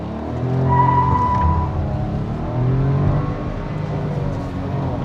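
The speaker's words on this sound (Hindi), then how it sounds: "और क्या तगड़ा व्हील स्पिन होता है गाड़ी के अंदर में" A Maruti Brezza 1.0 turbo manual pulls away hard from standstill with wheel spin, its engine note climbing loudly through two rising surges, with no talk over it.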